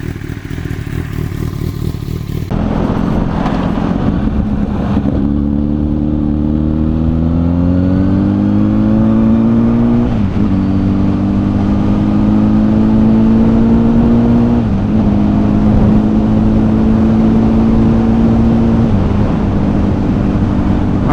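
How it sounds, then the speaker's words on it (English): A Honda CBR1000RR sport bike's engine revs loudly on a ride, its pitch climbing steadily through several gear changes with brief dips between them, under a constant rush of wind. "I just wanted to take this out for a quick ride and show you it runs through all the gears and everything"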